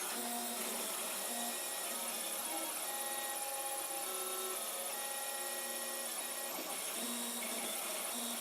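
A 3D printer with an E3D V6 hot end runs steadily, its stepper motors whining in shifting tones over a continuous mechanical hum.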